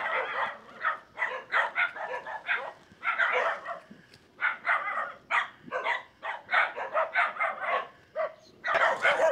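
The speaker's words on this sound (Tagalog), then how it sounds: "Marami raw aso." Several dogs bark in rapid, overlapping bursts along a rural trail near Kawayanan Falls in Amadeo, Cavite, a steady loud chorus of yaps and woofs with brief pauses in between.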